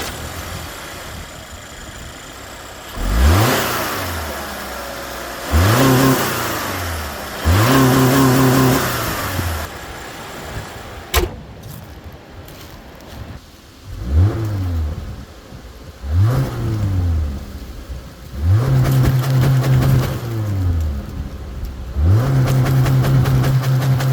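A 2023 Subaru Crosstrek engine revs repeatedly while driving, each pull rising in pitch through the gears with a throaty burble, separated by short lifts and a brief sharp noise midway, with no voices.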